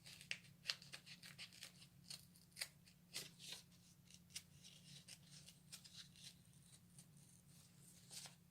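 Scissors snip through paper to cut out a shoe wing, a quiet run of quick, irregular crisp cuts close by with small rustles between them.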